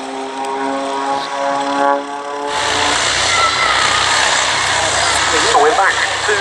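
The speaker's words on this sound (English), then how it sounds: "rolling together off the grass, a rather unlikely looking pair of de Havilland DH-89A Dragon Rapide and Piper L4 Cub" A de Havilland DH-89A Dragon Rapide and a Piper L4 Cub roll together off the grass at Duxford, their propeller engines droning loudly and steadily, the tone thickening as both aircraft taxi, with a commentator talking over the noise.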